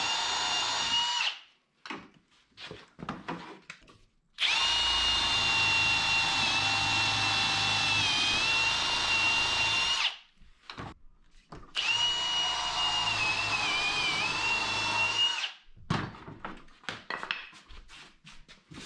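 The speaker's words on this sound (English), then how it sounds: "then drill holes for the pins, which will be centered on each of the 3 tenons" A power drill bores pin holes through the tenons of wooden breadboard ends on a table top, sounding in two long, steady, loud whining runs close by, with short bursts and pauses between them and no talking.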